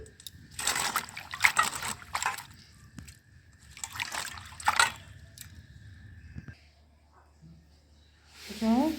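Freshly picked ash gourd leaves are washed in water, with several bursts of splashing and sloshing separated by quiet gaps, followed by a brief voice at the end.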